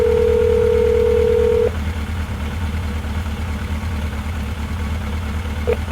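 A steady telephone tone sounds for under two seconds and then cuts off, followed later by one short beep, all over the low hum of an idling car engine.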